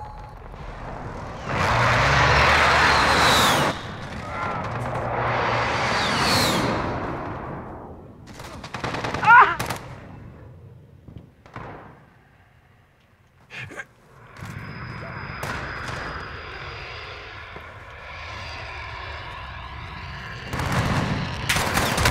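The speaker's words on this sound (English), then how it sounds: "Enemy precision airstrike inbound." Jets roaring overhead amid gunfire and explosions during a hardcore team deathmatch on the Atlas Superstore map in Call of Duty: Modern Warfare (2019), with loud bursts early, then scattered shots and sharp cracks over a steady background din.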